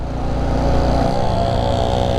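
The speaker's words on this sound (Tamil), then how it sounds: "ஆர் ஒன் ஃபைவ் முக்குது பாருங்கள் வண்டி" A Yamaha R15 motorcycle engine drones loud and close with a labored, low rumble, straining uphill at a steady pitch.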